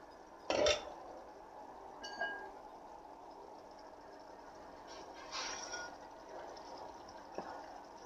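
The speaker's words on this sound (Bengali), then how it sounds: "ঢাকনাটা খোলো।" A metal lid is lifted off a cooking pot of potol curry in a home kitchen, giving one sharp clank followed by a few faint clinks and rattles against quiet background hiss.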